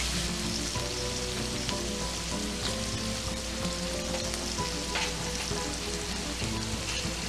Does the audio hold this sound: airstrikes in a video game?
no